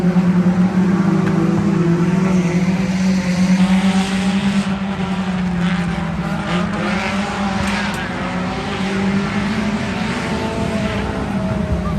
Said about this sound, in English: Right now, they got the 4 cylinders up there, so you guys can hear them.